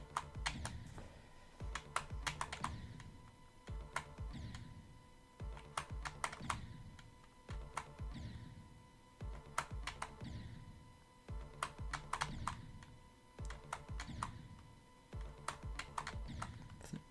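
Computer mouse and keyboard clicking while playing a game, quick close clusters of sharp clicks repeating in a regular rhythm over faint game music.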